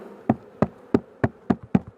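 Honey bees around a small nucleus hive being reopened, heard as a series of sharp, evenly spaced knocks or taps about every third of a second, close and moderately loud, with only a faint buzz between them.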